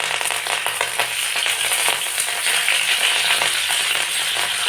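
Ginger and garlic frying in hot oil in a pan, a steady bright sizzle with small crackles, close and continuous, with no talk.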